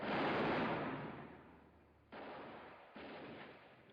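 Gunshots from a vintage television western, one loud blast fading out, then two more sharp shots close together, with no talk over them.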